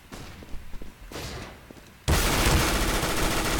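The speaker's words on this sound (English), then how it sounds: "Deploying flashbang." Flashbang grenade thrown in a CS:GO competitive match on the Cache map: scattered gunfire and clatter, then a sudden loud burst that holds as a dense, sustained roar to the end.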